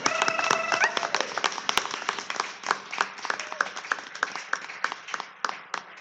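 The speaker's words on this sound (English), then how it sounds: "let's give him a standing, a grand standing applause" A congregation at a Center for Spiritual Living service gives Eugene a standing welcome, with loose, uneven clapping of individual hands mixed with a brief tonal flourish near the start, and the claps thin and scatter as it continues.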